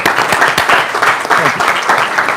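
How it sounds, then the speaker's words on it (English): Applause for a presenter at an academic conference on physical education and sport, a short burst of steady clapping from a seated audience, close and fairly loud throughout. "Let's give him a big round of applause."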